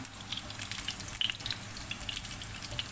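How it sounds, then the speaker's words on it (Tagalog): Garlic browning in a pan for sautéed sardines with misua: a faint, steady sizzle dotted with sparse small pops and crackles, with no voices. "Ang bilis lang mag-brown ng garlic."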